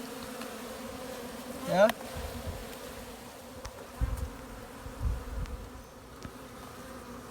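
Africanized honey bees buzz in a dense, steady drone around a hive in a rotted log, with single bees zipping close past, a few thumps from the work, and one brief spoken word.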